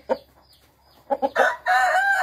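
A chicken clucks loudly nearby during physical training exercises, with a few short clucks followed by a sustained, strained crowing call.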